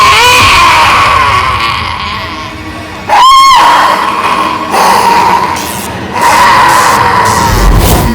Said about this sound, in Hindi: उनके चीखने चिल्लाने की आवाज पूरी सोसाइटी में कैसे गूंजती है।